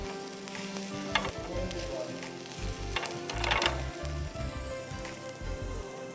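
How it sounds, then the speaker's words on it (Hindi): Ginger and garlic sauté in a hot pan with steady sizzling and frying, occasional stirring scrapes and crackles, close up and continuous. "अदरक, लहसुन को सौटे करेंगे।"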